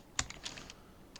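A few quick keystrokes on a computer keyboard enter a Linux command, crisp light clicks up close in a quiet room, with one isolated tap at the end.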